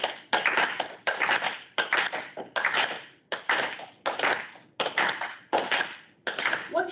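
Clapping repeats in a steady rhythm at a lecture on the physics of music: sharp, bright claps in evenly spaced bursts, each clap slightly smeared as if several people clap a little out of step.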